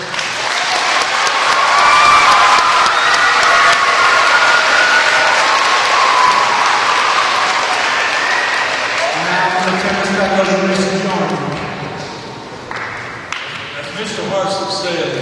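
An audience at a Tennessee ceremony honoring a National Teacher of the Year finalist bursts into sustained loud applause, the clapping thinning out and fading toward the end.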